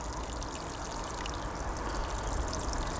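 Water pouring steadily onto tomato plants in a garden, a continuous close splashing rush without pause.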